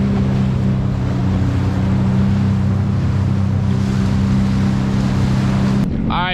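Sea-Doo GTI 170SE jet ski running on blue ocean water over a reef, a loud, steady engine drone with wind and water rush throughout, ending with a brief clatter near the end.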